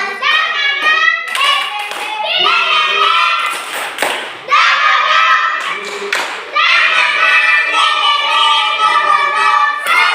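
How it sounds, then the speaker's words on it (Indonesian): Children in a primary school classroom perform a rhythmic spirit clap together, loud patterned bursts of hand claps with chanting voices throughout, close and lively. "Tepuk semangat."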